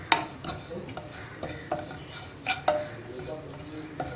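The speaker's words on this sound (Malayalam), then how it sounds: "പഞ്ചസാരയും ചേർത്തിട്ട് നമ്മൾ ഇതുപോലെ തന്നെ ഒന്ന് ഇളക്കി കൊടുക്കുക" Tender coconut and sugar being stirred in a hot pan, with a spoon scraping and clinking against the metal in a few sharp, irregular taps over a soft background.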